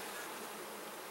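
Honey bees buzz steadily inside a hive around a brood frame with honey along its sides and top, a dense, continuous, close drone with no break or talking.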